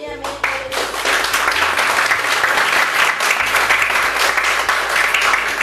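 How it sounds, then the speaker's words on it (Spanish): Church congregation applauding together, a dense, steady wave of clapping that fills the space from start to finish, with a sustained low organ-like tone underneath. "Vamos a aplaudirle a nuestro Dios."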